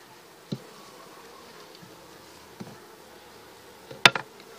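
Honey bees buzz softly at a beehive during honey extraction, with a steady low drone and a few sharp thuds and knocks scattered through, the loudest near the end.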